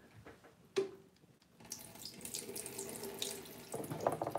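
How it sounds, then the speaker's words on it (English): Water pours from a faucet, starting after a sharp knock and a short pause, then running as a continuous splashing stream into a sink that grows slightly louder, nearby and with no talking. "I feel like, man, if I pour some cold water on my head"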